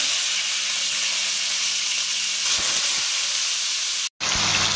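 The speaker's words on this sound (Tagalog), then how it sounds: "So guys, magpiprito tayo ng chicken." Chicken frying in hot oil gives a steady, dense sizzle and hiss throughout, broken by a brief dropout near the end before the sizzling resumes, with no talking.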